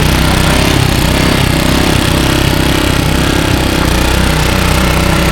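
A small Honda engine water pump runs steadily and loudly throughout, a constant droning rumble with no pauses and no voices.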